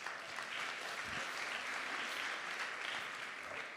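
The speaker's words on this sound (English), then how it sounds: "How about a round of applause for the misfits," Audience applauding a leadership speaker's call for misfits and eccentrics, steady dense clapping that holds evenly throughout at a moderate, slightly distant level.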